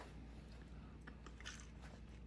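Shell-on shrimp from a bowl of Korean jjamppong spicy seafood noodle soup being bitten, with close, quiet crunching and a few crisp cracks of shell over a steady low background hum.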